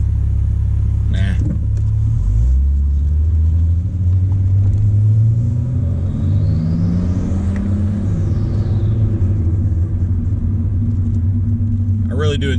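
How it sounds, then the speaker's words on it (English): A turbocharged car fitted with a Chinese test pipe in place of the downpipe drives and makes a U-turn. Loud, steady exhaust rumble carries a rising and falling turbo spool whistle through the middle of the clip. "I really do enjoy the turbo noises, though."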